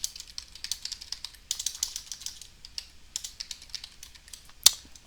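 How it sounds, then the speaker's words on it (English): Fingers typing on a computer keyboard: quick clusters of light key clicks in uneven bursts with short pauses, ending with a single sharper tap, close and alone. "Let me type this in."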